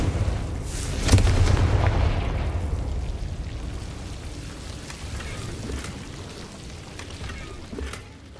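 A Confringo blasting spell in the Hogwarts Legacy video game goes off as a loud booming explosion with a rumbling low-end burst, decaying into a long crackling tail with scattered small pops.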